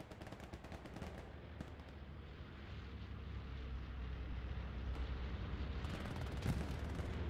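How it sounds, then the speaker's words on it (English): A bombing run in the military shooter Squad, with a dense, continuous roar of overlapping explosions and heavy gunfire that builds in intensity, and sharp blasts standing out near the end. "Oh my god, bombing run."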